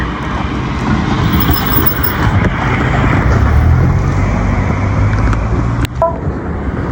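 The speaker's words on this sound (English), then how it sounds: "Just wait, I'm waiting for the cars to finish." Cars pass on a road in a steady, loud rumble of traffic heard close by, with a continuous wash of engine and tyre noise and a brief clatter near the end.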